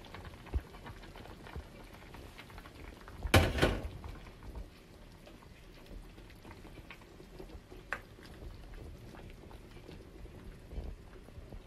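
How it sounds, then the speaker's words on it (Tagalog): Tuna kimchi stew simmers in a pot, giving a soft, steady bubbling and patter that runs throughout at low volume, broken by one brief louder clatter. "So, kumulo na siya."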